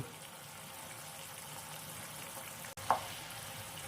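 Paneer frying in a pan over medium flame, a soft steady sizzle with a couple of short scraping stirs near the end, no talking.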